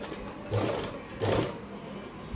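Sewing machine stitching a plate on a suit, two short close bursts of rapid whirring with quiet pauses between.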